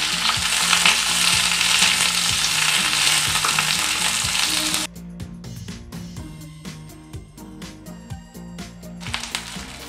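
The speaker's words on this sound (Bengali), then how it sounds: "এবার এই সর্ষের তেলটা গরম হওয়ার পর আমরা যে এই শিমটা আছে, শিমগুলোকে প্রথমে আগে ভালো করে ভেজে নিতে হবে।" Flat beans frying in hot mustard oil, a loud, dense sizzle with steady stirring taps of a utensil against the pan; midway the hiss drops sharply, leaving quieter crackles and clinks of stirring.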